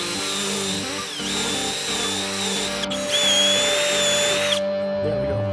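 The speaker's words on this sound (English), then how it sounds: "I like to clean it with this Blue Monster tubing cleaner." A power drill spinning a Blue Monster tubing cleaner on plumbing pipe, a steady close whine with a slight pitch dip, then cutting off near the end.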